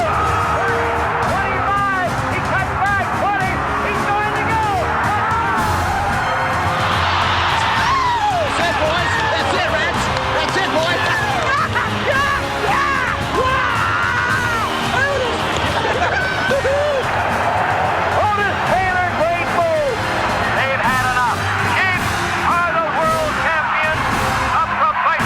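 Stadium crowd at a Kansas City Chiefs football game roars and cheers continuously, a loud dense wall of voices with whoops rising and falling throughout, with an announcer's voice talking over it.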